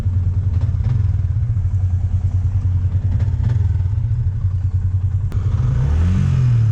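A small Yamaha NMAX scooter engine with an aftermarket exhaust idles with a steady low rumble and rattle, then briefly revs near the end.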